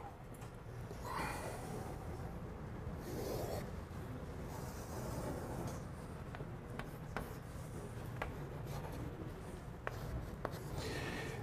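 Steady scratching of a marker or chalk on a board during a physics lecture, a continuous soft scraping with small taps and clicks near the end, against a constant room hum and with no one speaking.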